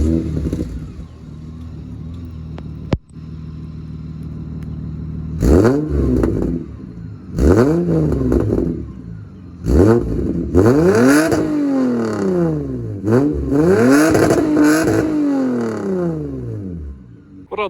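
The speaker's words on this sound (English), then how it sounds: "So it's got a MagnaFlow sports muffler and a resonator delete, and that's all you need." 1999 Lexus ES300 with a MagnaFlow sports muffler and resonator delete, revved repeatedly while stationary: a series of loud, sharp throttle blips that rise and fall, growing longer and harder toward the end, close up with no talk.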